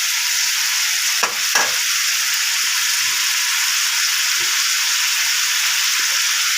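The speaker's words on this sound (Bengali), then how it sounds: "আলুগুলো নেড়ে দিলাম" Boiled potatoes frying in a pan, a steady bright sizzle running throughout with a couple of sharp scraping stirs near the start and faint clicks later.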